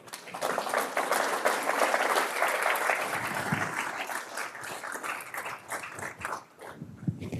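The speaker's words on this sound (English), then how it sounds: "Give Mallory an applause" Sustained audience applause at a CORE community event honoring an organization leader, a dense wash of many hands clapping that stays loud for several seconds before thinning toward the end.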